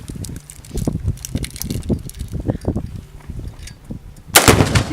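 A Tannerite exploding target goes off with a single loud, sharp blast near the end, following a stretch of rustling and low thumping handling noise outdoors.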